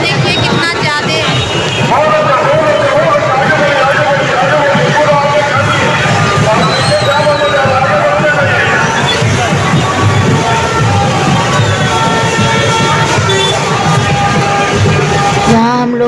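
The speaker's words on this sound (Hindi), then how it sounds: "हम लोग अभी मार्केट आए हुए हैं और यहाँ भीड़ देखिए कितना ज़्यादा है।" Crowd hubbub in a busy market on the day of a visarjan festival: loud, dense, unbroken babble of many voices, close and continuous, with people talking nearby.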